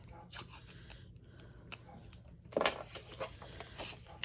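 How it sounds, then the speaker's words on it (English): Tape pulled off a roll and handled to form a hinge during a Glimmer hot foil craft project, giving faint rubbing and crinkling with a sharper tearing rip partway through, close and quiet over a steady low hum. "we'll go ahead and make a hinge with some tape."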